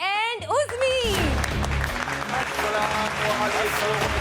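Studio audience applause and cheering welcoming guests Barkat and Uzmi onto a talk show set, a dense loud wash of clapping that swells after a host's voice and continues steadily throughout.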